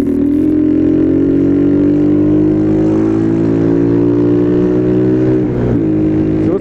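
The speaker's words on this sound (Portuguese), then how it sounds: "Vou ter que colocar o coletor de ar nessa moto de novo." A motorcycle with its air intake collector removed runs on a street used for wheelie riding. The engine gives a loud, steady droning rev with slight rises in pitch, close by, with no talk.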